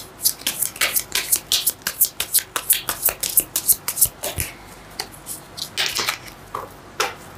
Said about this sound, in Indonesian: Ada kartu yang terjatuh.